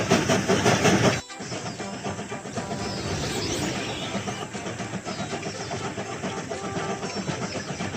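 A cartoon train sets off with a loud burst of steam or noise that cuts out abruptly, followed by a steady rolling rumble and hiss as it moves away.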